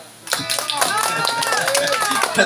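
Audience clapping hands at a village music gathering in Salta, Faridpur, a dense run of sharp claps from a crowd with voices mixed in, lasting throughout.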